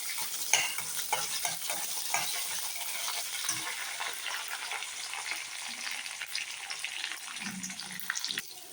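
Garlic sautéing in a pan for Tamil kuzhambu, a steady soft sizzle with occasional stirring scrapes and light clinks, close and continuous.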